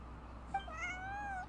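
A cat meows in Genshin Impact, one rising-and-falling call with a clear tonal ring, moderately loud over a steady low background hum, with no talking.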